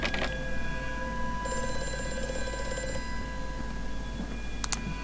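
Telephone ringing in the horror game Amnesia: A Machine for Pigs, a bright electronic bell tone in short bursts, moderately loud over a low steady hum, with no talk.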